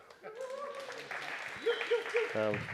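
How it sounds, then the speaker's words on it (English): An indoor audience claps to welcome a presenter at a gathering. A steady wash of clapping runs under people talking close by, with voices on top throughout. "Let's give him a clap."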